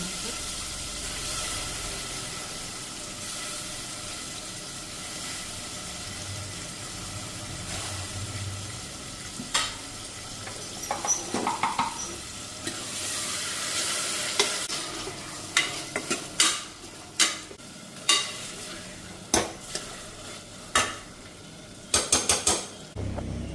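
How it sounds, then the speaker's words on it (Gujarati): Cluster beans tempering in a hot pan, a steady crackling sizzle throughout with intermittent clinks and scrapes of a spoon against the pan growing more frequent toward the end. "ગવારનું વઘાર"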